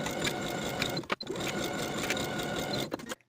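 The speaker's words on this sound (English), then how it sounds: "Sew both side seams from the underarm to the top of the slit with a 3/8 inch seam allowance, backstitching at both points to secure." A sewing machine stitches the side seams of a ruffle-sleeve summer top with backstitching, running in a steady, close whir that pauses briefly near the middle and stops shortly before the end.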